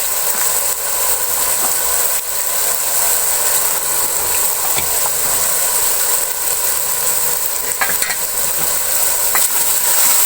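Spices and tomatoes stirred and frying in a pan for degi aloo, a loud, continuous close sizzle with scraping spoon strokes throughout.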